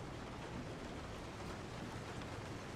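Steady rain in the horror game Resident Evil 7, a constant broadband hiss of falling water with a faint low rumble, even and unbroken throughout with no talking.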